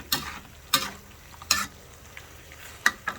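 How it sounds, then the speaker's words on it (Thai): Pea eggplants fry in hot oil for a panang beef curry, with a soft sizzle broken by a few loud, spaced scrapes and clatters of a utensil against the pan, and no talking. "ใส่มะเขือพวงลงไปได้เลย ต้องให้น้ำมันเดือดทีนะครับ"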